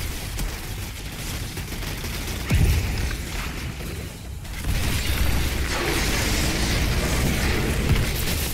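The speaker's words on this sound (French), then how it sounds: "Grenade." A grenade explodes in the Outriders video game: a dense wash of battle noise, a sudden low boom near the middle, then a sustained heavy rumble that keeps rolling to the end.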